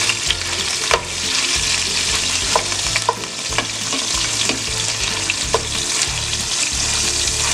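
Chorizo frying in a pan while being stirred, a loud close sizzle with repeated scraping strokes of a utensil against the pan, no voices.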